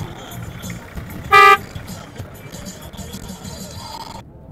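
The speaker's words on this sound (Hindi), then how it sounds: "ये है जी टीम सुल्तान की गाड़ी।" A rally jeep at the Cholistan Jeep rally in Pakistan sounds one short, loud horn blast partway through, over a steady background of engine rumble and crowd noise outdoors.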